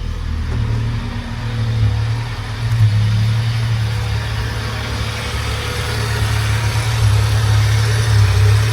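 A 1995 Honda Civic engine runs at a steady idle right after starting, a constant low rumble close by with slight fluctuations and no talking.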